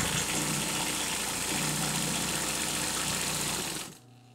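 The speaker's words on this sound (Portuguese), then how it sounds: "Esse bordado você pode fazer também na sua máquina doméstica, tá?" Domestic sewing machine stitching Richelieu embroidery with silk thread, a fast, steady mechanical whir and needle chatter up close, stopping abruptly near the end.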